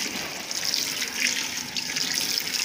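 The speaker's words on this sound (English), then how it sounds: "And now comes the cold water." Cold tap water running steadily over cucumbers in a sink, a continuous close hiss and splash that stays even throughout with no voices.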